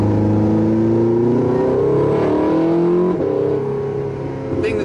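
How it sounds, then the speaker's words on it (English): Porsche 918 Spyder's V8 engine accelerating from inside the cabin, a loud continuous roar climbing steadily in pitch through the gears, sustained and close throughout. "And you get a lot of V8 noise."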